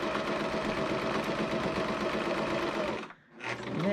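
A sewing machine stitching a fold-down casing, running in a fast steady whir for about three seconds, pausing briefly, then starting again for a back stitch.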